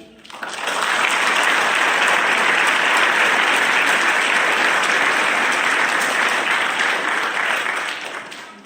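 A congregation at a church feast of the holy archangels breaks into loud applause, rising quickly, holding a full steady clatter for several seconds, then easing off.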